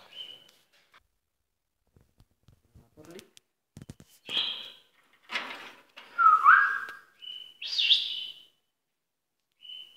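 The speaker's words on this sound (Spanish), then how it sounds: "Os voy a enseñar ahora los pájaros" Birds in an aviary chirp and whistle in short bright bursts with pauses between, some calls clear and close, against an otherwise quiet background.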